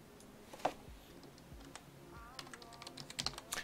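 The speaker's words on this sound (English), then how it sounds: "what you're going to do is you're going to go and type this in." Keys on a computer keyboard clack in short, uneven bursts as a command is typed into a command prompt window, with sharper taps near the end and no talking.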